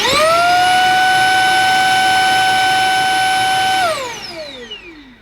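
A Beldray Roller cordless vacuum cleaner whirs up quickly to a loud, steady motor whine, holds it, then winds down as it is switched off, the pitch falling away to quiet.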